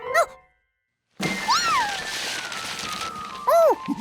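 A cartoon kitten gives high, bending meows, one short cry at the start and two more after a pause, over light background sounds.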